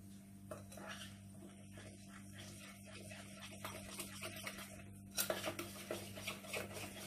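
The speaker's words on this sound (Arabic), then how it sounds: "ونخلط مزيان هذا الخليط" Flour batter being stirred by hand with water and yeast for an eggless apple cake, soft wet squishing and light scraping strokes, faint and close, with a louder clatter near the end.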